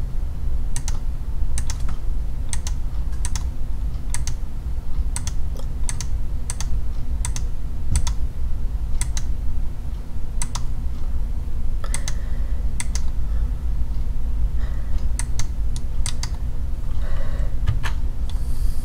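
Crisp individual keystrokes on a computer keyboard while working in PE Design 10 embroidery software, tapped in uneven bursts and single presses, close and clear over a low steady room hum, no speech.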